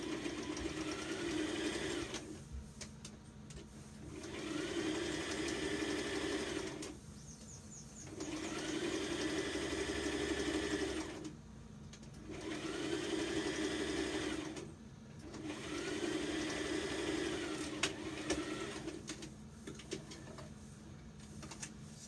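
A sewing machine stitches a dress in repeated runs of a few seconds each, its steady motor hum and rapid needle chatter broken by short pauses, close and fairly quiet.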